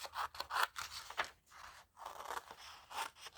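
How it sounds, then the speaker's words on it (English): Scissors snip through paper being cut into brightly colored labels, a run of crisp close crunching cuts in quick bursts with short pauses between them, no voices. "I normally use my big scissors to do the first cuts"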